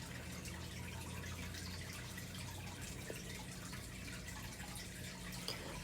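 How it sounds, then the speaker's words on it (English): Water poured into a pot of candied yams in a home kitchen, a quiet, steady trickling hiss over a low background hum, with no talking. "I'm going to be adding water"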